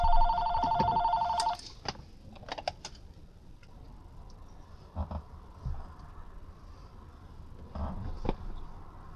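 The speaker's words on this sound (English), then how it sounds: "The phone is going to ring." A telephone rings near the start: a bright electronic trill of stacked tones that lasts about a second and a half. After it stops, the room stays quiet apart from a few soft clicks and knocks.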